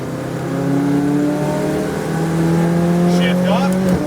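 A McLaren 570 GT4 race car on a track accelerates at full throttle, its engine note climbing steadily in a loud, close, continuous roar inside the cockpit.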